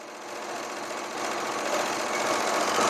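A sewing machine runs continuously stitching a rolled hem on a special occasion dress, a steady fast buzzing whir that grows slightly louder partway through, close and alone.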